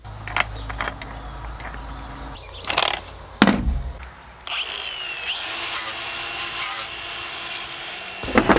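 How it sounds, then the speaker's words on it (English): Power-tool grinding and scraping as the metal edges of a trailer are cleaned back to bare metal before welding, with loud sustained whining passes broken by sharp clatters and a short pause, close and without speech. "I gotta clean off some of the edges on the trailer to make it just clean metal to weld on."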